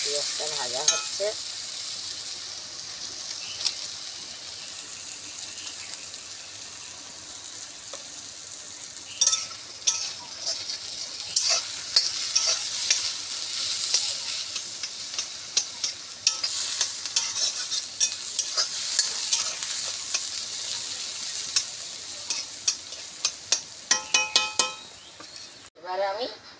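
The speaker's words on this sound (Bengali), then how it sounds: "পেঁয়াজটা ভাজা হচ্ছে।" Onion frying in oil in a pan, a steady close sizzle with repeated scraping and clinking stirring strokes that grow busier toward the end.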